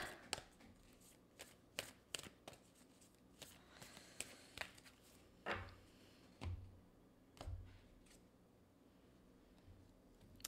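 Tarot cards are shuffled and drawn in a quiet room, giving soft, faint, intermittent flicks and papery taps with pauses between them.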